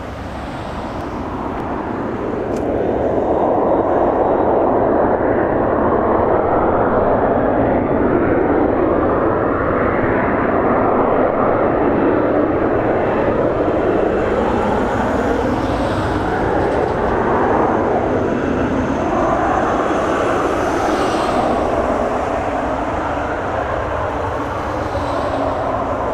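A fixed-wing airplane takes off from runway 05 at Toronto Pearson Airport, producing a loud, continuous engine roar that swells early and then holds for nearly half a minute, with no voices.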